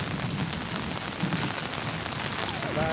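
Rain falls steadily on surfaces in a village, a dense, even patter filling the scene at moderate volume with no voices, a faint distant rumble underneath.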